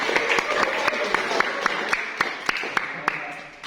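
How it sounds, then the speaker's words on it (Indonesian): A classroom group claps together for a student, a steady patter of hands with sharper individual claps over a low murmur of voices, fading slightly toward the end. "Tepuk tangan untuk Agni."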